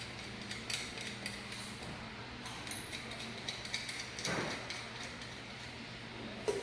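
A Premier-style aluminium box lid with extended loop springs pivots open on its axle, giving a faint, quiet mechanical creak with light clicks and one brief louder scrape partway through.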